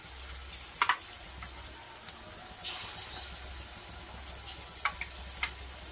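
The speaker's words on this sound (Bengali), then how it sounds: "চলো বড়াগুলো ভাজা হোক।" Besan (gram flour) fritters frying in mustard oil for a potato and eggplant curry, a steady soft sizzle with scattered crackles and pops close by, no voices.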